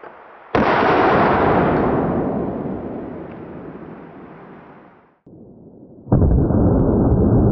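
.308 rifle round set off by a booby trap aimed at a watermelon: one loud sharp blast with a long, slowly fading rumble, then another abrupt burst of noise.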